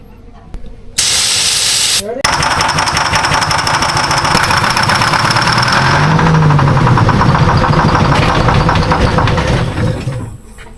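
A Peterbilt 358 diesel truck engine, abandoned for 40 years, catches and runs loudly after an ether start, with a burst of hissing spray before a steady rough rumble that fades near the end.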